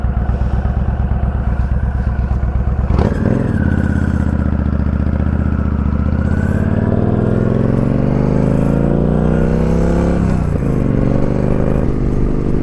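Yamaha V Star 1300 cruiser motorcycle fitted with Cobra highway bars rumbling close up while riding, idling at first, then revving up through the gears with a rising engine note.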